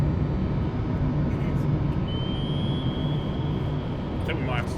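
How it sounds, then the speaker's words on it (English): An airplane passes overhead as a steady, broad rumbling roar that stays loud throughout, with a faint whine rising above it. "I think that's a plane."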